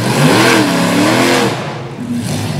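A Bigfoot monster truck engine at a monster truck show in Little Valley, New York, a loud close revving roar rising and wavering in pitch before easing off after about a second and a half.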